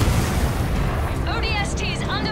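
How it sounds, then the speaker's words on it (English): Heavy artillery shelling in the Halo Wars 2 battle, a dense continuous rumble of explosions, loud and close, with a voice speaking over it in the second half. "I'm getting shelled! Need support ASAP!"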